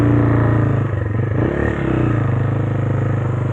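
Motorcycle fitted with a wide front tire rides along, its engine a steady, loud, close drone with rough low rumble and slight clatter throughout, no voices.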